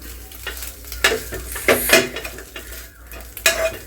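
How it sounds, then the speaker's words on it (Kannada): Eggs fried loose and scrambled in a pan, a spatula scraping and stirring in bursts over steady oil sizzle, close and fairly loud, no talking. "ಈ ಥರ ಉದ್ರುದ್ರಾಗಿ ಮೊಟ್ಟೆನ ಫ್ರೈ ಮಾಡ್ಕೋಬೇಕು."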